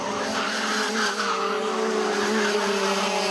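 Race cars in a local senior, master and novice final at Chiangmai Circuit roar down the straight: a dense, loud, continuous engine howl with layered tones and no break, no talking.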